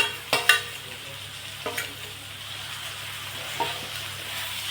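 A spoon stirs roasted, mashed eggplant into hot oil for Khandeshi bharit. Several sharp scrapes and clacks against the pan sit over a low steady sizzle, close and clear.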